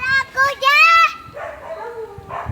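A dog gives a few drawn-out, howling barks up close, mixed with voices and a child's chatter.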